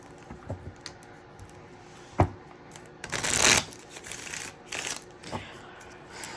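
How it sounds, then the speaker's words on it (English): Cards being shuffled, with a few short riffles and one louder, longer burst of flicking cards, close up and crisp. "Let's shuffle one more time and then let's clarify."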